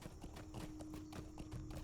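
Horse hooves clip-clop steadily in the video game LOTRO, a quick even patter of hoofbeats under a faint background hum.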